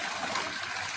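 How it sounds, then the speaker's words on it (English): Soft, even hiss of water jetting from a small stingray's spiracles, a brief faint gush with no voices. "That water coming out of the spiracles is filtering out anything the ray does not want to eat."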